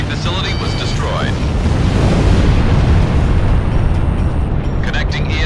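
An enemy facility explodes in Ace Combat with a loud, sustained rumbling blast that roars and crackles for several seconds, with brief radio-style voice chatter at the start and end.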